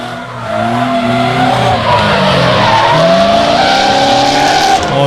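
Drift cars at Meremere Drift Park slide with loud, continuous tyre screech and skidding, engines roaring and revving close up throughout, with no talk over the noise.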